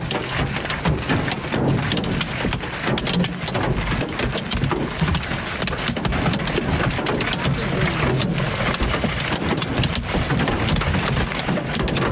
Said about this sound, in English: This hailstorm slammed northwest Kansas with incredible force, tearing up the landscape